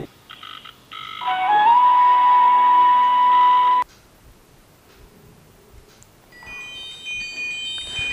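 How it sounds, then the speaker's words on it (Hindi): A smartwatch plays a call tone while dialing: a short beeping opening, then a sustained electronic tone for a few seconds, followed by quiet and fainter tonal blips near the end. No one speaks. "तो चलिए अभी इसका कॉल फीचर को देखते हैं इसमें कॉलिंग करके देखते हैं तो मैं डायल कर रहा हूँ अभी"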